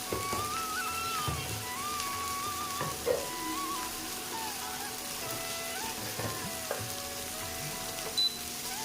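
Jackfruit curry pieces frying in a pan with salt and turmeric, giving a steady, close sizzle throughout with occasional stirring knocks.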